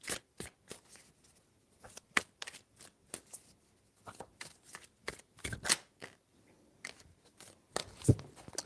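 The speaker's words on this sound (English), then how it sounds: "3 shuffles." Tarot cards are shuffled by hand at close range: a rapid run of short, sharp flicks and taps, irregular in rhythm and moderately quiet, with no talking.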